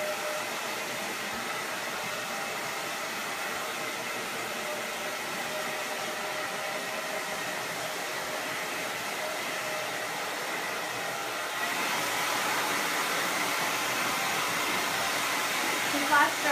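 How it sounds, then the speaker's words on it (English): A handheld hair dryer blows continuously while flash drying wet hair in a salon, a steady rushing hiss that grows louder and brighter near the end. "I'm going to do a little flash drying just to get some of the water out"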